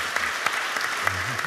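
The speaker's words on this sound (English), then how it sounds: "Give him a hand of applause" Brief clapping from a panel audience at an AI and universal basic income discussion, applauding a panelist, heard at moderate level with faint voices and low murmur underneath.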